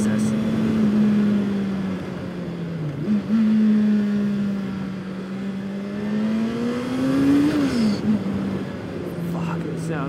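A custom turbocharged Honda CBR900 sports motorcycle accelerates, its engine droning steadily and close, with brief dips as it shifts and a rising pitch before easing off, a rider's voice briefly heard in the background.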